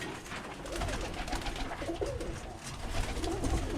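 Birmingham roller pigeons cooing in a breeder loft, soft repeated coos over a dense, constant murmur of many birds, close and steady with no talking.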